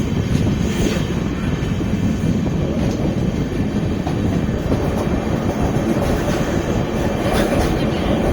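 An Amrit Bharat Express train runs steadily on rails near Salem Junction in Tamil Nadu, heard from on board as a loud, continuous rumble with faint clickety-clack, no talking.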